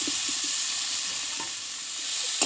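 Potato and vegetable stem pieces frying with spices in a pan, a steady close sizzle with soft stirring scrapes and a brief clatter near the end.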